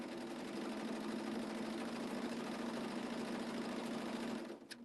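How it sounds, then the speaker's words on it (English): A serger sewing machine stitching fabric strips together runs in a steady, loud, continuous whir with a low motor hum, then stops abruptly near the end; no talking. "sergers do like to cut a little bit of fabric off"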